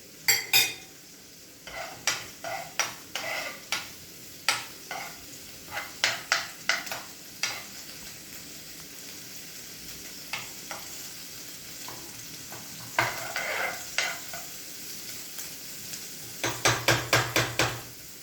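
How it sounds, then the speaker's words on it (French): Shallots sauté in butter and shrimp juices, a steady sizzle broken by repeated sharp scrapes and clinks of a utensil stirring against the pan, close and clear with no talking. "On fait revenir les échalotes dans le beurre et les sucs des crevettes."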